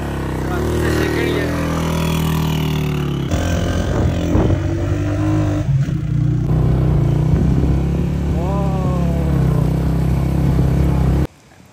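A motorcycle engine runs steadily after being restarted on an uphill mountain road in the Koltor Valley, Kalam, with a loud continuous drone and a rising rev near the end, under people talking, then cutting off abruptly.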